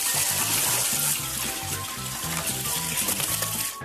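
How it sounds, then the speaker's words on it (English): A dog laps and splashes water while washing its face, with wet stirring and sloshing sounds that run steadily under loud rhythmic background music. "Dog drinking water while washing its face."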